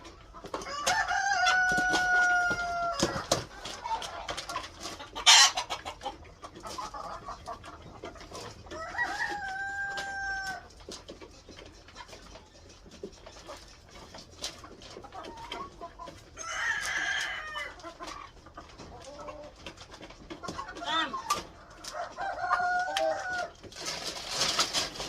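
Farmyard chickens cluck and call around the listener while roosters crow several times at intervals, some close and loud, others farther off, with occasional bumps and scuffs between the calls.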